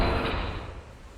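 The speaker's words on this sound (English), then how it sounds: "Okay, open the door." A door opening in a horror-style text adventure video game, a single loud, dense burst of sound that fades slowly over a second with no voices.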